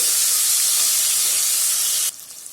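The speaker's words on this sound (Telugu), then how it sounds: "టమోటా వేసుకొని టమోటా ముక్కలు కూడా మెత్తగయ్యేంత వరకు వేపుకుందామండి" Tomato pieces frying in a pan give off a loud, steady, bright sizzle and hiss that runs unbroken, then drops sharply to a much quieter sizzle near the end.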